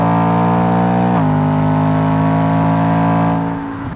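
A BMW E92 M3's V8 engine pulls hard at the Nürburgring, its loud, steady harmonic roar briefly dipping in pitch near the start of a shift before holding strong and easing off at the end.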